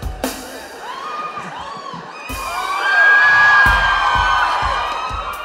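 A live audience shouts and cheers loudly with whoops. The crowd noise swells in the middle, with a few sharp bangs and knocks in it.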